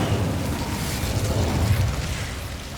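A fire spell is cast in the Hogwarts Legacy game, giving a steady, dense whooshing roar of flame. It has a low rumble and holds at an even loudness through the whole stretch, with no voices.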